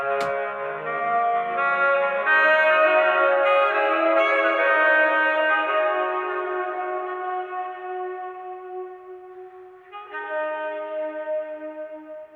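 A sustained saxophone drone note washed in reverb, holding steady and slowly fading, then a brief swell near the end.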